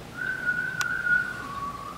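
A single person whistles a sustained tone imitating a passing train whistle, its pitch holding steady and then dropping lower to mimic the Doppler shift, with a brief click midway and no talking.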